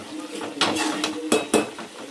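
A metal spoon stirs dried fish into a curry in a pot, scraping and clinking against the side a few times over a soft simmering sizzle.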